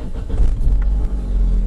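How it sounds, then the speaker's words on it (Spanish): A car's engine starts and settles into a low, steady rumbling run, close by and alone for under two seconds. "Ponemos el coche en marcha"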